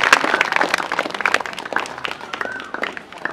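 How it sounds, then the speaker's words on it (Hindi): A church congregation at a Hindi sermon claps loudly for Jesus Christ, a dense, steady wash of many hands close by that runs throughout without a break. "सब जोर से ताली बजाएंगे यीशु मसीह के लिए।"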